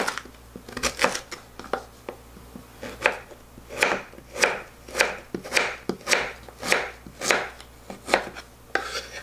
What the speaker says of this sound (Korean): 자, 그러면 이 밤은 이렇게 작게 썰어 둘게요. 고구마도 이렇게 썰어 두시면 됩니다.